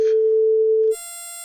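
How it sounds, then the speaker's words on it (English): Electronic test tones from a Pure Data oscillator, a smooth steady tone that switches abruptly to a quieter, buzzier waveform, heard alone without speech. "Triangle."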